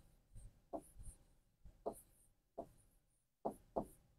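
Marker or chalk strokes on a classroom board during a logic lesson, a series of short scratchy taps in irregular bursts, close and fairly quiet.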